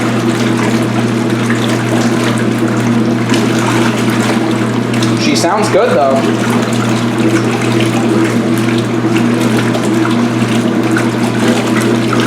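A Speed Queen C Series washing machine, 2022 model, churns and splashes water steadily through its wash stroke, a dense continuous sloshing with a brief surge midway, while someone speaks briefly over it.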